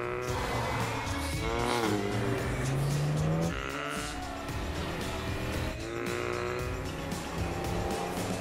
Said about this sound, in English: Turbocharged dream machine, the Volkswagen Golf GTI